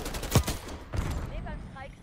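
Gunfire from a KSV weapon in a video game, a few loud bursts of shots in quick succession with a strong low thump early on, then scattered quieter shots and game effects.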